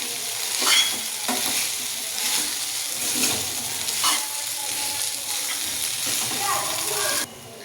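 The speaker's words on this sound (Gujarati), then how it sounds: "હવે આપણે મિક્સ કરી દઈશું પૌવા।" Flattened rice with potatoes for Gujarati batata poha is stirred and mixed in a sizzling pan, a spatula scraping in repeated strokes over steady frying hiss, close and fairly loud, ending abruptly near the end.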